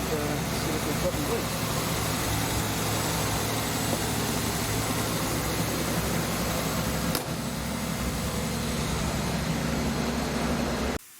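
A vehicle engine runs in a garage to build air pressure for a winch air line, giving a steady, unbroken droning rumble that holds at an even level before cutting off at the very end.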